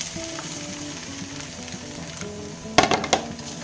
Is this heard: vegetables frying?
yes